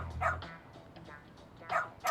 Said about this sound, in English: Oh, so you're Amasawa's dog,